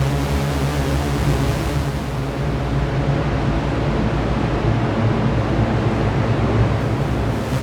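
A clouds reverb effect pedal: a dense, washy wall of reverberant noise swells and sustains like distant surf, smeared and diffuse, fading out abruptly at the end.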